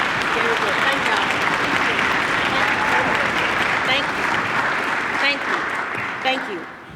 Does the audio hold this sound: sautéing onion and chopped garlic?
no